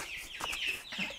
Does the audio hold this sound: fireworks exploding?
no